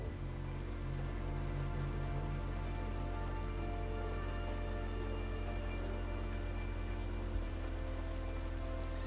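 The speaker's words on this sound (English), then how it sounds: "Get out in the pouring rain." Steady pouring rain in the Cyberpunk 2077 video game, a dense continuous downpour hiss running throughout over a low steady hum, with no talking.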